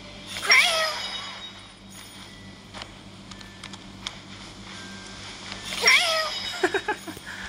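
A cat meows twice in the video game Genshin Impact, a few seconds apart, over a low hum and faint scattered clicks.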